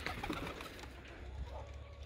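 High flyer pigeons perched on ledges coo softly outdoors, faint and somewhat distant under a low background hum.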